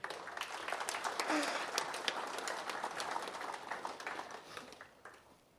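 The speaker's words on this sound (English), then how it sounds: "I think that deserves a round of applause" Applause from an audience at a factory complex opening in Fiji, a swell of clapping that holds steady and then fades gradually toward the end.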